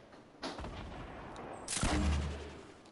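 A couple of gunshots fired in Fortnite, sharp bursts standing out over a continuous game background, with a louder, heavier boom-like blast arriving about halfway through.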